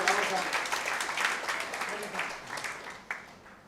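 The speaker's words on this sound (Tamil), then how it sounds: "அதுக்கு தான் அவருக்கு கைத்தட்டு" Audience applause for a man seated in the crowd wearing a shawl, a steady patter of clapping that thins out toward the end, with some voices mixed in underneath.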